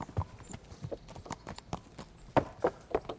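Horse hooves clip-clop in a steady walking rhythm in the medieval game Kingdom Come: Deliverance, several distinct footfalls at moderate distance with faint background ambience.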